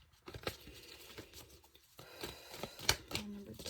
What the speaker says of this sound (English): I'm going to shuffle some tarot cards